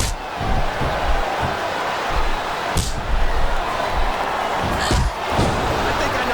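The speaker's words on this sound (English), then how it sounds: "Sounds like this crowd's got something on their minds" A wrestling arena crowd roars and murmurs continuously during a match, a dense wash of noise with a few louder thuds and bursts, heard from within the venue.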